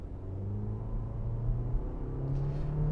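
A 2020 Toyota C-HR with a CVT pulls away from a stop sign, its engine building in a steady low rumble and drone that stays close and loud throughout, with no talk.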